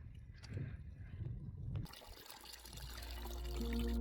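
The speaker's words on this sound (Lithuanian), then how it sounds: "Kažkoks kalnų upeliukas." A small mountain stream fed by melting snow trickles and babbles steadily, close and fairly loud, after a short stretch of softer, muffled noise at the start.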